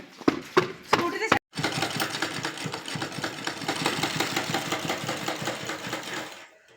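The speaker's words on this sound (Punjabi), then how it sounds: "ਉਹ ਕਢਾਈ ਵਾਲੀ ਮਸ਼ੀਨ ਤੇ ਕਢਾਈ" An embroidery machine runs in a shop with a fast, steady, rhythmic whirring and clatter. A few louder knocks and a short gap come first, then the mechanical chatter continues evenly at close range.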